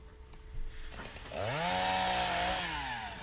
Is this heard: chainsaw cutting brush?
yes